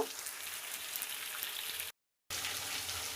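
Pigeon meat curry sautéing slowly in a pan, a steady close sizzle and frying crackle that runs continuously, briefly cuts out, then resumes.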